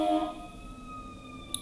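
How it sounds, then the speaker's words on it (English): An ambulance siren passes in the distance outside, a faint steady wail with tones holding through the short stretch and no voices over it. "Ambulance going by."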